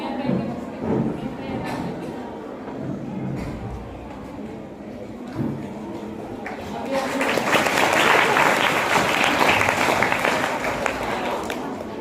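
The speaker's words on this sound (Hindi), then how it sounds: "इनका तालियां बजाकर छात्राओं ने स्वागत किया है।" Schoolgirls break into applause to welcome the principal at a school Hindi Day event. A dense, sustained burst of clapping swells in the latter half after a stretch of murmuring and talk.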